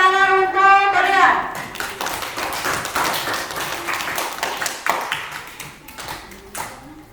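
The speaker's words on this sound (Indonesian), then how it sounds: "Tepuk tangan untuk kalian." A school class clapping for themselves after a science lesson: a burst of uneven, close hand claps and taps from many children, mixed with voices, follows a short spoken phrase and gradually thins out.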